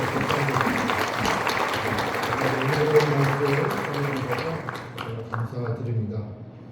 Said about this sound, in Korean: 다시 한번 큰 박수로 감사의